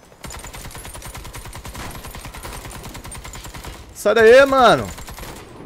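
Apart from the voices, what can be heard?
gunfire in the video game Warface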